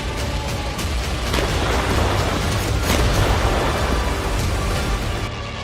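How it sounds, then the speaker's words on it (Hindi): A large blast in Russia–Ukraine war footage, heard as a loud, sustained broadband roar with deep rumble that fills the whole stretch without a sharp single crack, steady and close, with no voices. "इस वीडियो में ज़ेलेंस्की को डराने वाला बहुत बड़ा धमाका है।"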